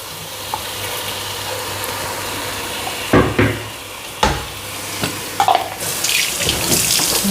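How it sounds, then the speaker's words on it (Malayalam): A kitchen tap runs into a sink while dishes are being washed, a steady background rush broken by several sharp clanks of dishes, then louder splashing water near the end, no talking. "പാത്രങ്ങളാവണത് കഴുകി വയ്ക്കൊണ്ടിരിക്കുകയായിരുന്നു"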